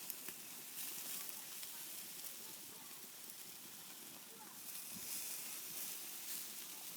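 Chicken tandoori sizzles and crackles steadily over an outdoor open wood fire, a continuous fine hiss at moderate distance with no voices heard.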